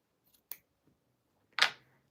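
Two crisp snips of scissors cutting through fabric while sewing, a light first cut followed a second later by a louder, sharper one, close up in an otherwise quiet room.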